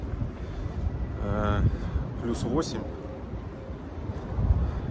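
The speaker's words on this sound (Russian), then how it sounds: "Поднялся ветер." Steady wind rushing and buffeting outdoors at the port of Yokohama on a cool day, a low continuous roar with brief voices nearby.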